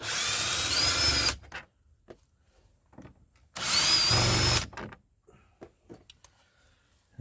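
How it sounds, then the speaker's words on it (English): A power drill whirs in two loud sustained bursts of about a second each while removing trim from a 1989 Lincoln Town Car, separated by quiet clicks, scrapes and handling noises. "I got the drill because we don't have to be real careful with this."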